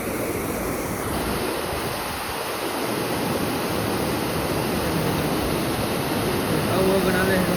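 Floodwater from heavy rain rushes over a road and overflows into farm fields, producing a loud, continuous roar of turbulent water close by that never lets up.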